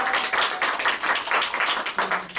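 An audience at a company group meeting applauds in dense, continuous clapping, loud and close, with no speech over it.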